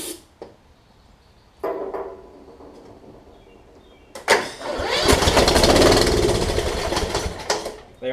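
Kohler Courage engine on a Toro Z5000 zero-turn mower, cranking on starting fluid inside a garage: short starter bursts, then the engine catches and runs loud and rough for several seconds before dropping off.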